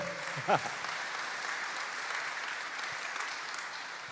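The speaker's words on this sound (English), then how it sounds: "Would you give them a big round of applause?" Audience applause at a county conference opening general session, a soft, distant, even patter of clapping from a large room, with a brief voice near the start.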